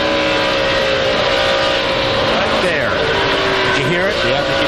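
A NASCAR stock car racing at the 2004 Brickyard 400, its engine roaring loudly with rising and falling pitch and a brief tire squeal as the left front slides on painted track surface, under commentators talking.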